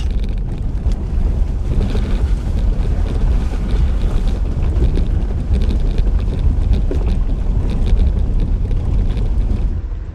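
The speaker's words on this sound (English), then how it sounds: "water crossing." An overland vehicle pushes through a water crossing, giving a loud, continuous churning rush of water over engine rumble, with heavy wind buffeting on the microphone.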